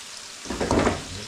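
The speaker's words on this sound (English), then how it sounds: "slowly cooking these tofu cubes off and get them Nicely coated and seared on both sides" Tofu cubes fry in a pan, a soft hiss that suddenly swells into a louder crackling sizzle about halfway through the brief moment and stays up.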